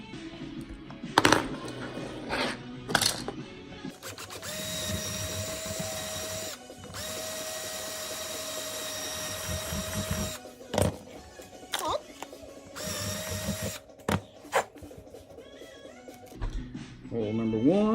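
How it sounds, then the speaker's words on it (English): A cordless 3/8-inch drill whirs in two sustained bursts as it bores holes in trailer work, with clicks, handling clatter and short spoken remarks around them. "So I'll get the 3/8 drill, get the battery."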